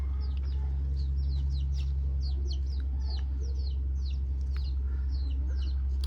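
Chickens cluck and chirp repeatedly in a rural Thai home setting, steady and moderately close over a constant low hum, with no talking.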